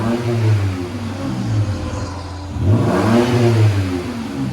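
A 2018 Toyota Tacoma TRD Pro with a 3.5L V6 and Borla Pro-XS exhaust revs up twice nearby, its deep exhaust note rising and falling in two rounded surges.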